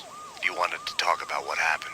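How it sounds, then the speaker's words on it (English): Police sirens wail from the Max Payne video game, a rising and falling tone running steadily beneath a man's close, clear dialogue throughout. "Do you hear the sirens?"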